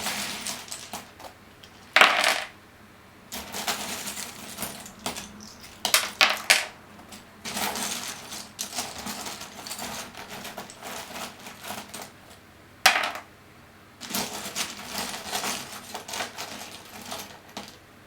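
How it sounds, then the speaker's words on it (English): Tarot charm-casting charms shaken and tumbled onto a surface give bursts of small clinking, rattling clatter, with several sharp drops standing out between quieter shuffling, close and alone. "let's get these charms. A really good shake up here."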